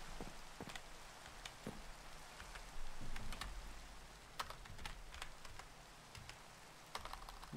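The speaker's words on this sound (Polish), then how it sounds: "Tylko że tutaj ostro, kurczę, pada deszcz." Rainfall in modded Minecraft (FTB Beyond, version 1.10.2) makes a faint, steady patter, with scattered sharp clicks scattered throughout.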